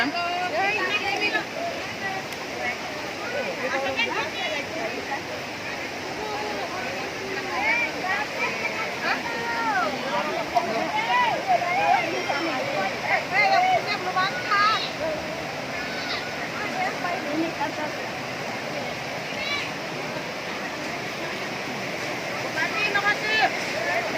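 A river flows steadily beside people eating at its edge during a Ramadan-eve bathing outing, a continuous rushing wash of water running throughout with voices talking over it.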